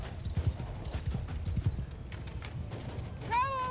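Horses gallop through a battle in Mount & Blade II Bannerlord, with rapid, close, overlapping hoofbeats clattering throughout and a sharp whinny near the end, backed by faint battle noise and voices.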